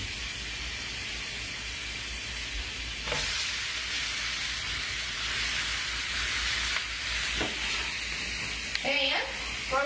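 Butter, or margarine, sizzles and hisses steadily in a hot pan on the stove, with stirring scrapes and brief bursts of spattering. Heard close up and fairly quiet, with no one talking over it.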